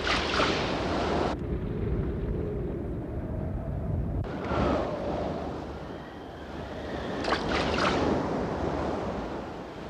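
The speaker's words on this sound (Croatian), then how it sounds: "padala je kiša i puhali su vjetrovi" A cartoon storm of pouring rain and gusting wind, loud surging rushes of noise that swell and cut off abruptly in several bursts, like waves and gusts crashing in turn, with no speech.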